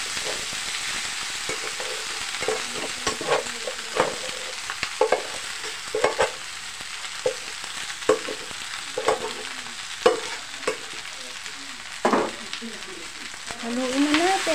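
Rice and garlic are stirred in a hot pan, with a steady sizzling fry and repeated scraping strokes of the utensil at close range, and no speech.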